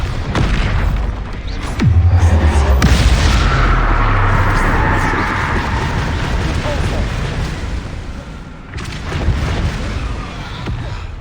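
Bombarda explosion spell in a Harry Potter video game: a heavy boom near the start swells into a long rumbling blast that fades slowly, with a second impact near the end.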